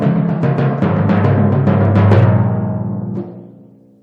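Timpani struck with left hand lead sticking and a small double at the end roll out in a quick series of booming, resonant strokes that ring and decay together, loud and close, fading out at the end.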